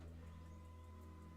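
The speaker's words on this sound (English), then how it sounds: "my printer just started up and it's printing." An HP LaserJet 1018 printer starts up and prints a test page, giving a faint, steady mechanical hum with a low drone that continues without interruption and no voices.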